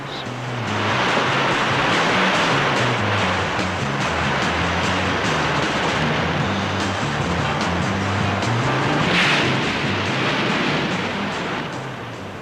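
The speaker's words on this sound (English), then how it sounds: "The breaking of these waves" Ocean waves break and wash in a continuous loud roar of surf, swelling slightly near the end, with no voices.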